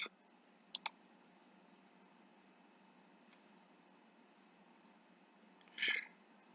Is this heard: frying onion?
no